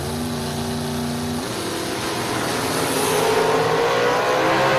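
A drag race car accelerating hard down a drag strip at a racing event, its engine a loud, close, continuous roar whose pitch steps up through a gear change and climbs steadily as it pulls away.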